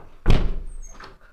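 A door slams shut once in a home, a single close, heavy thump with a short rattling tail and no voices.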